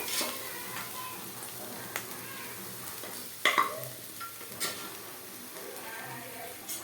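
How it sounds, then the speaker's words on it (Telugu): Boiled lentils tipped into a pan of fried onions for a pani puri filling sizzle softly while a spoon stirs, with a few sharp clinks against the pan over a quiet, steady frying hiss. "ఉల్లిపాయ ఫ్రై అయ్యాక ఇందులో మనం పప్పు ఉడకబెట్టుకున్నాం కదా, ఆ పప్పు వేసేద్దాము."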